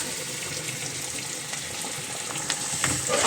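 Onions fry in a pan for chicken sukka, a steady close sizzle and hiss that continues without a break and grows slightly louder toward the end.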